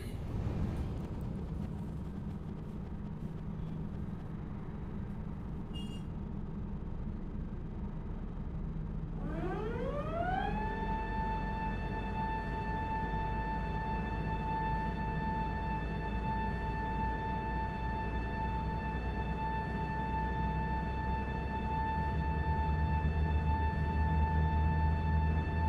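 Airbus A380 engine number 3 spooling up in Microsoft Flight Simulator, a steady rising whine climbing in pitch for about two seconds, then holding as a loud sustained turbine tone over a constant engine rumble.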